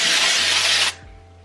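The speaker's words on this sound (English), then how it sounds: "Oh, that is a strong spray." Drybar Detox dry shampoo sprays in a loud, steady aerosol hiss for nearly a second, then cuts off sharply, leaving only quiet room tone.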